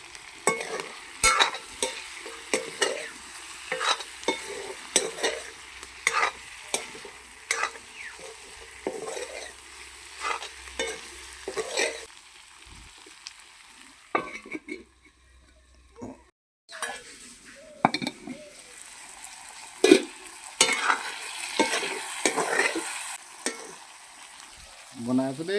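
Ginger and garlic fry in a pan while broiler chicken curry is cooked, giving repeated stirring scrapes and a steady sizzle with a short lull midway, close and moderately loud.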